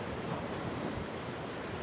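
Strong ocean waves surge and wash along a shore facing the Pacific Ocean, a steady broadband roar with wind buffeting the microphone, no voices.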